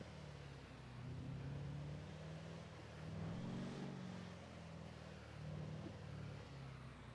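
Car engine in GTA roleplay, a faint continuous low rumble with gentle swells in revving, steady throughout with no talk over it.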